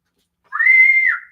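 A single sustained whistle from a person at an auction, one steady rising-then-level tone lasting under a second, loud and close after silence.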